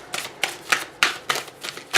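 A tarot oracle card deck being cut and shuffled, giving about seven sharp, crisp riffling bursts in an uneven rhythm, close and fairly quiet with no talking.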